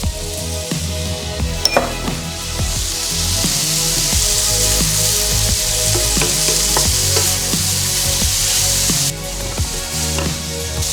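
Prawns and peanuts fry in a noodle pan with a steady loud sizzle, broken by repeated scrapes and clinks of a utensil stirring against the pan.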